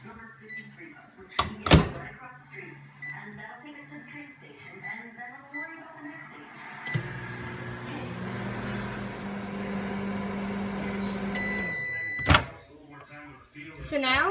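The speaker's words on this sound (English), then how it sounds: "now we're going to put it in the microwave for 1 minute" A microwave oven hums steadily for several seconds while heating a cup of Vaseline mixture, with knocks and a door thunk before it starts and a beep as it ends.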